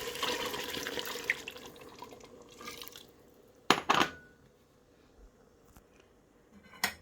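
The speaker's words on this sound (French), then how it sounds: "je mets un peu d'eau" Water splashes and trickles into a cooking pot of Kandia soup with partly cooked meat and seasonings, a steady pour over about three seconds, then a few sharp knocks and faint drips.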